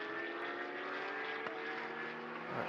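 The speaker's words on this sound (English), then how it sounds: "Do enjoy when the Porsches are in close proximity to one another, because we can listen to all those lovely flat sixes." Porsche flat-six race car engines at Mugello circuit during a Trofeo GT Sprint qualifying session, a steady droning whine with shifting tones as cars pass, heard at a moderate distance and constant throughout.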